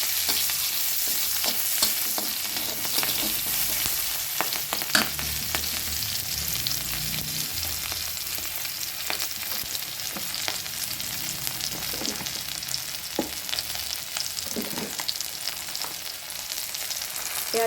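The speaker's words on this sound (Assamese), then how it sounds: "এই তেলতে পিঁয়াজ এফাল দি দিছোঁ।" Onion sizzles and fries in hot oil in a pan for a traditional Assamese vegetable dish, a steady close crackle with occasional stirring scrapes throughout.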